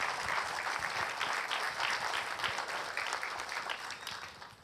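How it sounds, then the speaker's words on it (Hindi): Steady audience applause in a hall at an IAS coaching event, dense clapping from a large crowd holding even loudness for several seconds before easing slightly at the end. "सर के लिए एक बार तालियां बजा दीजिए"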